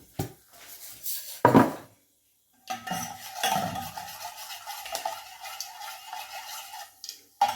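Mustard and fenugreek seeds drop into a hot pan and start spluttering, with a few sharp clatters of a pan and utensil before a steady sizzle and crackle sets in close by, no voices.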